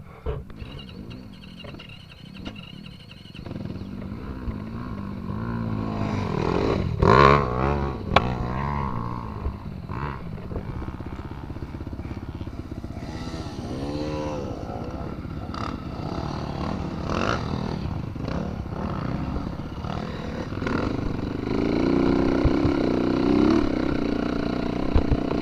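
Dirt bike engines rev and drone at a hare scramble race, a continuous loud revving that rises and falls in pitch over the whole stretch, with several machines nearby and no talking.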